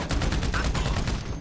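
Minigun fire in GTA V Online, a steady rapid drumming of shots at an even rhythm, moderately loud and continuous over a short span.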